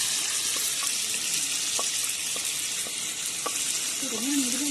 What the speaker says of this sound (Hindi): चिकन को मैंने अच्छी तरह से फ्राई कर लिया। अब मैं इसमें शामिल करूंगी जो भी मसाला बचा है